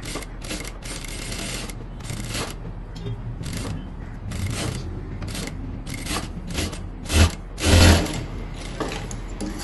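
A sewing machine stitches a kameez neckline in quick, rattling bursts of needle action separated by short pauses, close and fairly loud, with a heavier mechanical thump near the end.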